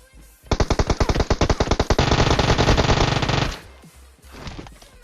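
M4 assault rifle in PUBG firing a loud, close automatic burst, rapid sharp shots in a steady rhythm lasting about three seconds, then fading into quieter game ambience.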